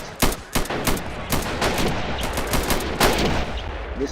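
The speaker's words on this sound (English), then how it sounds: "There goes another artillery hit over here." Artillery cannons and gunfire crack through a video game battle for Pork Chop Hill, a steady run of sharp, loud shots and booming blasts repeating every half second or so over a dense, continuous din of combat.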